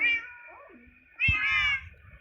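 A young cat meows twice, a drawn-out wavering call followed after a short pause by a louder, higher meow, close by and quiet otherwise.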